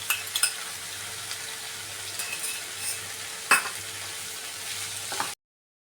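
Tomatoes and crushed garlic fry in oil in a pan for vegetable pulav, a steady soft sizzle with occasional stirring scrapes and clinks of a spoon, close by and uninterrupted before cutting off abruptly.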